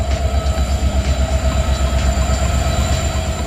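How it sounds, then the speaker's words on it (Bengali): A passenger train pulls into a station, three hours late, with a loud close rumble of rolling wagons, rhythmic wheel clatter and a faint high squeal of wheels. "অনেক সময় অপেক্ষা করার পরে ট্রেনটা আইয়া ঢুকের।"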